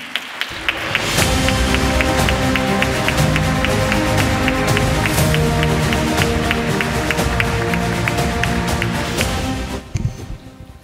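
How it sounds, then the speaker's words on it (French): A hall audience bursts into sustained applause for a speaker at a lecture event, steady dense clapping with a few louder claps and cheers, continuing for about nine seconds before tapering off. "Je vous demande d'applaudir Pierluigi Locchi."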